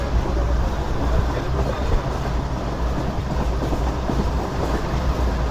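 Pakistani Business Express train running at speed, a steady dense rumble and rattle of wheels and carriages heard close from on board, continuous without breaks.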